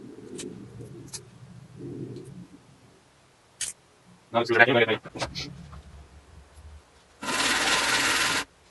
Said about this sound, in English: I'm gonna sand it just a bit.